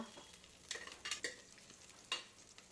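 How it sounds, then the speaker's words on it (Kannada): Dry red chillies and crushed garlic fry quietly in oil, a soft sizzle broken by several scraping stirs of a spoon, with no one talking. "ಒಣ ಮೆಣಸಿನ್ಕಾಯಿ ಹಾಕಿ ಫ್ರೈ ಮಾಡ್ಕೊಳ್ಳೋಣ ಅದಕ್ಕೆ ಜಜ್ಜಿರೋಂಥ ಬೆಳ್ಳುಳ್ಳಿ ಸ್ವಲ್ಪ"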